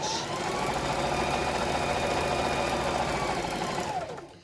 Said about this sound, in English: we're just going to sew straight stitch